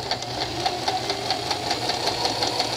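A home sewing machine stitches fabric in a fast, even mechanical chatter of needle strokes, close and continuous throughout.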